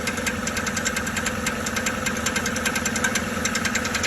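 A 2002-2014 Chevrolet Silverado engine making a strange noise, a steady running drone with a rapid, even ticking or knocking pattern throughout, close and fairly loud with no talking.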